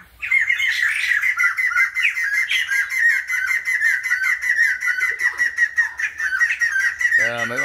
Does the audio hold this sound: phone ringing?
no